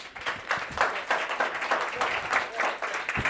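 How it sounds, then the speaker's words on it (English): Applause for the speakers at an unDavos 2026 Ignite Talks event, moderate clapping from a seated audience in rolling waves, fairly soft and close, without talk over it. "So can we give everybody a round of applause for being here?"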